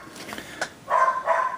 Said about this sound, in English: if you can still hear me over the dogs barking